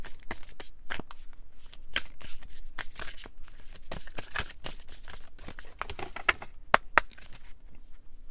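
Tarot cards are shuffled and drawn, giving a quiet, close patter of rapid riffling and flicking taps with a few sharper snaps near the end, and no speech.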